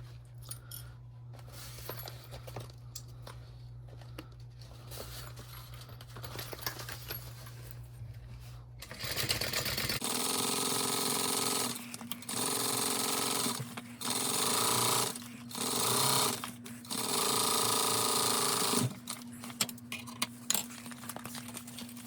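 A sewing machine bastes a fabric crossbody bag, starting quietly and then running in loud rapid bursts of stitching separated by short pauses, close by.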